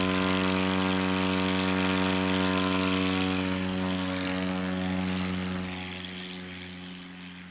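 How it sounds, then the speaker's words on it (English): A STOL airplane at a qualifying event in Brainerd, Minnesota takes off, its propeller engine a strong steady drone with a firm hum that stays loud, then eases slightly and starts to fade toward the end. "That was a nice, solid takeoff."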